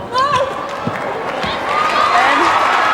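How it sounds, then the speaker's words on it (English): Spectators at a 1994 Mobil Super League netball game in Adelaide groan and murmur in disapproval, a broad swelling crowd noise that grows louder toward the end, with a commentator talking over it. "Possession in the air. Crowd doesn't like it."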